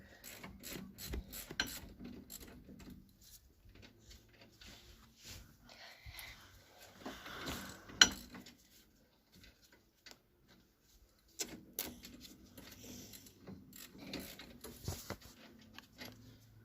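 A ratchet wrench loosens a bolt on a Mk3 Ford Escort estate, giving quiet, close bursts of rapid clicking with pauses, light metallic handling and a few breathy sniffs in between.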